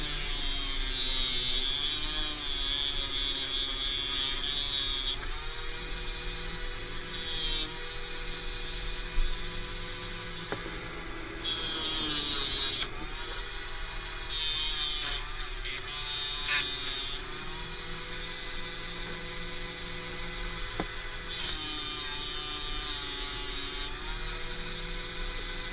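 A rotary sanding disc grinding a jewelry bead whines continuously at high speed, its pitch and loudness shifting as it presses against the bead and eases off.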